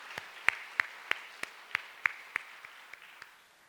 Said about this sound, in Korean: 하나님께 영광의 박수 올려드려야 됩니다